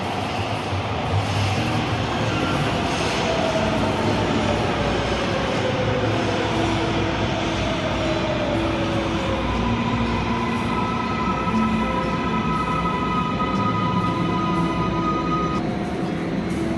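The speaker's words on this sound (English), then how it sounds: "I think I hear the train." A train rolls past steadily and fairly close for the whole stretch, a continuous rumble of rail cars with faint metallic wheel squeals drifting in and out, and no voices over it.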